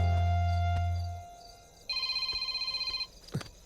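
A phone ringtone sounds as a short run of quick pulsing electronic beeps after a low hum fades, fairly quiet, followed by a brief thud.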